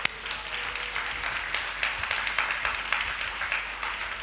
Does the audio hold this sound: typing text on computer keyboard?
no